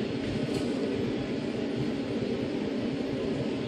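Agra Metro train running on a high-speed trial, a steady, loud broadband rumble and rail roar that stays constant throughout with no voices.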